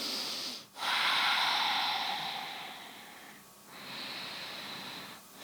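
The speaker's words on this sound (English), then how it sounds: "a few rounds of conscious breathing" Deep, audible yoga breathing during a floor twist, two long airy inhale-exhale cycles with brief pauses between, close to the microphone and unaccompanied by talk.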